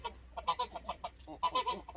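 Domestic geese kept with ducks and hens on a homestead honk in a rapid, overlapping chorus of harsh, nasal calls, loud and close with several birds sounding at once.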